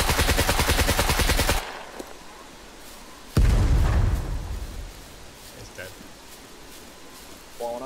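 Rapid automatic gunfire from the survival game SCUM rattles loudly for the first second and a half, followed by a single heavy blast and fading echoes, with a player's voice briefly audible.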